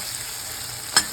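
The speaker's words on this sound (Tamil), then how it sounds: "இப்போ நம்ம மிக்ஸ் பண்ணி வச்ச நெல்லிக்காய் இதில் போட்டுடலாம்." Amla mixture dropped and stirred into hot sesame oil seasoned with asafoetida for a pickle, giving a short sharp sizzling burst near the end over a low steady hiss.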